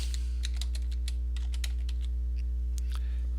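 Quick bursts of typing on a computer keyboard, light irregular key clicks close by, set against a steady low electrical hum, with no talk.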